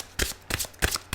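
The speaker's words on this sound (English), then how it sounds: "going to shuffle a bit more." Tarot cards being shuffled in three quick riffling bursts, close and crisp, with short pauses between them and no talk.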